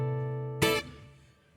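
A sustained 13th chord voiced over the four chord rings out, then a short bright percussive burst cuts in before the sound decays quietly, heard alone and up close.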